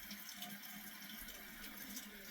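Hot water runs steadily from a bathroom tap, a continuous broadband hiss and splash that stays even and fairly quiet throughout, with no talking over it.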